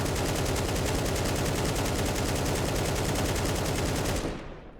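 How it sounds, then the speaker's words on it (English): Sustained automatic rifle spray in Counter-Strike 2, over thirty rounds fired in one loud, unbroken rapid stream of shots that ends sharply and fades out. "What I do there, I sprayed over 30 bullets essentially"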